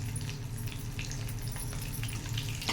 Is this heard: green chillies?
yes